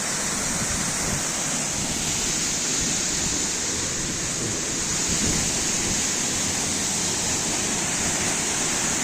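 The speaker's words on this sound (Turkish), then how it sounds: "Harika bir şelale." Loud, continuous rushing roar of a natural waterfall heard up close, a dense wash of falling water that holds steady throughout with no talking.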